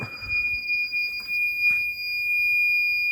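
A garage bay smoke detector sounds during an annual fire alarm system test, giving a loud, steady high-pitched electronic tone that persists throughout.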